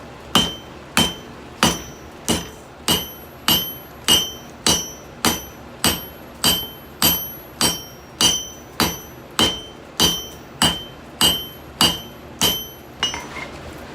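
A hammer beating the first forge weld on a canister Damascus billet from a coal forge, about twenty ringing metallic blows at a steady pace of roughly one per second, close and clear, with no talking.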